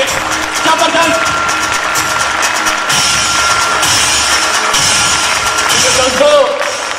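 Audience applause and cheering at an achievers' event in honour of the speaker's mother, a loud, continuous wash of clapping and crowd noise with voices mixed in throughout.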